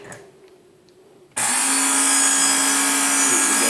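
A Work Sharp belt sharpener with a P80 grit belt switches on and grinds a Gerber Gator machete blade, a sudden loud steady whine that holds to the end after a quiet start; no voices.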